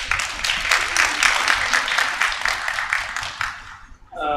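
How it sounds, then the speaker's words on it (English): An audience at a demographic conference claps after a keynote, with dense, steady applause for about four seconds before it fades out. "I think it deserves another clap"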